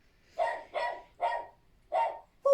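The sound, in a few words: dogs barking outside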